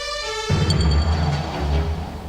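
A voice imitates the Casualty TV show theme tune, humming a soft tonal opening that jumps into a louder, buzzy sung phrase lasting about two seconds, with no other talk.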